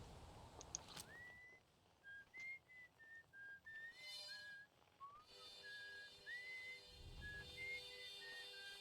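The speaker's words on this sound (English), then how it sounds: "Someone's just whistling up there." Someone in the video game Outer Wilds whistles a gentle, wandering melody in a series of clear, sustained notes with short gaps between them, faint and somewhat distant over a quiet ambient background.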